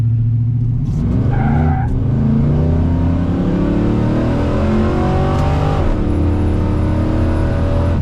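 A Ford OBS muscle truck accelerates hard from 0 to 60, its loud engine climbing steadily in pitch through gear changes, with a brief tire squeal early on and a strong continuous roar heard from close range.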